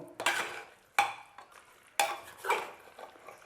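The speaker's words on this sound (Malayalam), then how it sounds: "അടിപൊളിയായിട്ട് ഇളക്കിയിട്ടുണ്ട്." A metal spoon scrapes and clatters against a pot while chicken and masala paste are stirred for biryani, three sharp strokes about a second apart with softer scraping between, close and alone.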